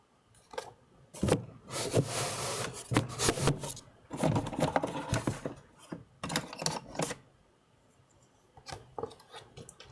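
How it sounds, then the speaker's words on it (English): A printer runs close by in a morning print job, giving bursts of mechanical whirring and clatter separated by short pauses and tapering to quieter, sparse clicks. "Printing, yes, it's printing this morning."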